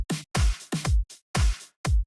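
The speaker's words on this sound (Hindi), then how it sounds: "अब आप सुन सकते हैं हाई हेड कभी लेफ्ट कभी राइट आ रहा है" A programmed hi-hat in FL Studio Mobile is panned hard between left and right. It plays a punchy, uneven rhythmic pattern of short drum hits with booming low thumps and gaps of silence between them.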